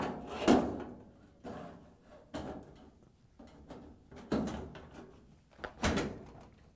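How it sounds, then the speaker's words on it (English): A GE dryer's metal top panel is handled and lowered into place, producing a series of dull thumps, clunks and scrapes spaced a second or so apart, fairly close. "we can put the top on the dryer"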